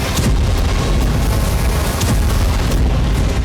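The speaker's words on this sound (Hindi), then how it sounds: "कभी कामिकाज़े ड्रोन से हो रहा धमाका।" A kamikaze drone strike explosion on the Russia-Ukraine front booms as a loud, dense roar of rumbling blast noise that holds steady throughout without fading.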